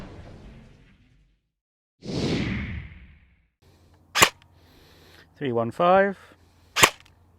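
A Cyma CM.098 AR10 airsoft DMR loaded with 3.6 BBs fires through a chronograph: two sharp, loud single shots a few seconds apart, with a voice between them and a brief whooshing rush before the first shot.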